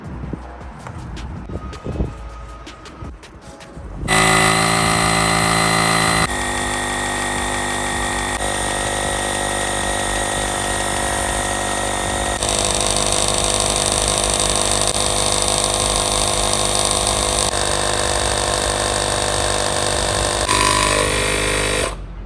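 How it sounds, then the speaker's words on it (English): A VTOMAN X6 portable tire inflator pumping up a low-pressure car tire, its motor starting abruptly after some handling noises and then running with a loud, steady, buzzing drone for nearly twenty seconds. "today I'm going to show you firsthand how quickly it can inflate low pressure tires."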